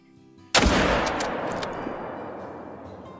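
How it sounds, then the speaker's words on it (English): A single loud rifle shot at a whitetail buck in the hunting game Call of the Wild cracks sharply out of near quiet, then a long echoing rumble rolls away over a few seconds. "Beautiful shot. Perfect heart shot."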